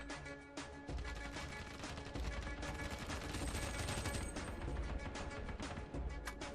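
M4A4 rifle fire in a first-person shooter, rapid bursts of shots cracking over a busy, continuous background of game noise, loud and sustained for the whole stretch.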